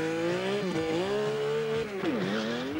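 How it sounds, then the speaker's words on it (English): A Kawasaki Z1300 motorcycle runs continuously at close range, its engine note rising and falling in smooth sweeps with brief tyre-squeal-like whines while the rider warms the tyres during a stunt routine. "All he's doing is warming up his tyres, you know."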